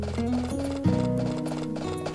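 Horse hooves clip-clop in the farming video game Harvest Moon: A Wonderful Life, a steady series of clear, close hoof beats over a looping tonal game music background, with no talking.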